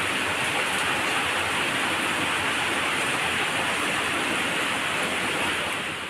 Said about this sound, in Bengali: কেমন জোরে জোরে বৃষ্টি নেমেছে দেখুন